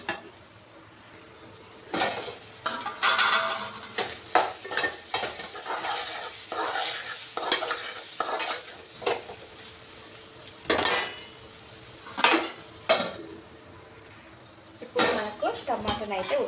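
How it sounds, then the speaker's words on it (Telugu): Tomatoes cook down in a pan for bitter gourd curry, a soft sizzle under repeated loud scraping and clinking of a utensil against the pan in irregular bursts. "టమాటా వేసుకొని ఇది మెత్తగా ఉడికే వరకు ఉడికించుకోవాలి టమాటాని"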